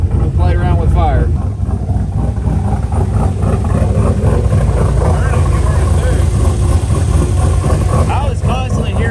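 Turbocharged LS V8 swapped into a Ford Fairmont revving, a loud, steady low engine roar filling the whole stretch with rising and falling throttle, people talking faintly underneath.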